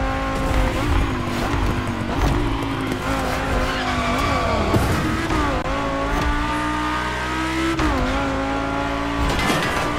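A loud Audi race car engine roars and whines continuously in a tunnel in The Crew Motorfest, with shifting pitch, some tire squeal and enclosed echo.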